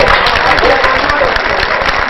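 An audience at a Hindi poetry gathering claps in a dense, steady patter while a voice speaks over the applause.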